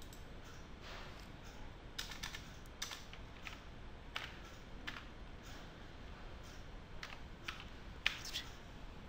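Soft, steady clicking of keys as a command is typed on a computer keyboard in Linux, light taps in irregular bursts with a few sharper strikes, close and quiet over faint room hiss.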